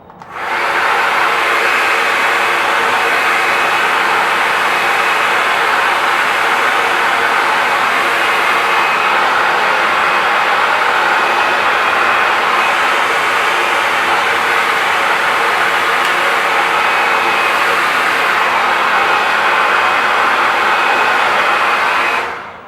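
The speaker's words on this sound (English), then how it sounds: "part it by blow drying the center right here, and it stays in place" Hair dryer blowing steadily as hair is blow-dried into a scene style, a loud continuous airy roar running almost unbroken from start to finish with no talking.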